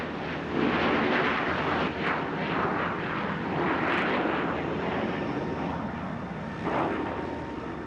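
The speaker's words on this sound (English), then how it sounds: "Taking off side by side at Richmond, the 2 deadly adversaries of the Korean War, the MiG and the Sabre." A MiG-15 and a Sabre jet fighter take off side by side at Richmond airfield, filling the air with a loud, continuous, rumbling jet roar that swells and fades slightly throughout.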